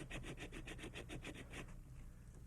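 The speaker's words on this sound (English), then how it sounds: "To sand the middle of the reed, move the reed up and down the sandpaper like this." A bagpipe chanter reed made of cane is rubbed up and down on sandpaper, giving a quiet, even rasping scratch about ten times in a row before the strokes stop.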